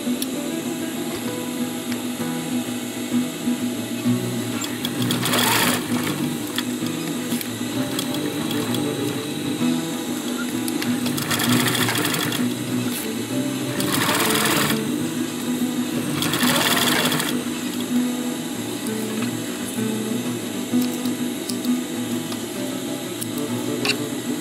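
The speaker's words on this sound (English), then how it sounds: "Turn the pocket on its right side and sew it some 2 centimeters" A sewing machine stitches a fabric chest pouch pocket with a continuous, steady mechanical whir and hum. A few brief louder bursts of faster stitching stand out over the running motor, and no one speaks.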